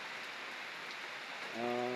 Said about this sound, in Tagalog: Wow, ang ganda tingnan ng ulan.